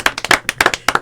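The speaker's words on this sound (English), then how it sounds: "He claps just to keep himself warm." One person claps alone at a comedy stand-up show, a quick, slightly uneven run of about ten sharp, close hand claps with no other applause around them.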